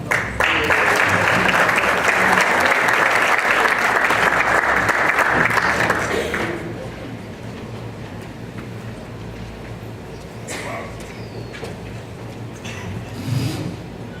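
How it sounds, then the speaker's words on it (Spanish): Loud, dense applause fills a forum hall for about six seconds, then drops away abruptly to quiet room noise with a few scattered claps and shuffles. "Aplausos."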